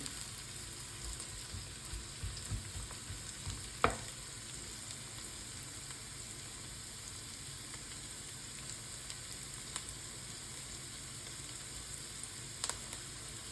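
Onion sautéing in a pan for pork ribs with tomato, a faint steady sizzle with a few soft scraping stirs.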